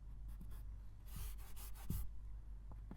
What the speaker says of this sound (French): nous devons écrire le petit 1 d'abord